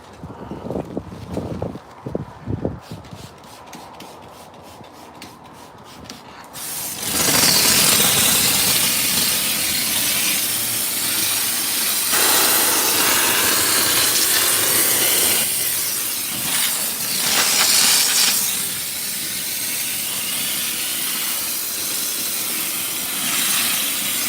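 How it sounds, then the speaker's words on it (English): Water sprayed over a car during detailing, a loud, steady hissing rush that starts abruptly after some quieter clicking and rattling, then runs continuously with slight swells, no talk. "I'm just gonna wet the whole car."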